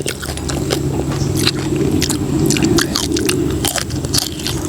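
Close, crisp crunching bites and wet chewing of spicy pounded apple snail salad repeat in an uneven rhythm, loud and near, with no talking.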